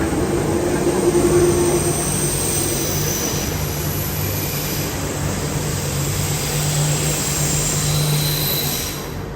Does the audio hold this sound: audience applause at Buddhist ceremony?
no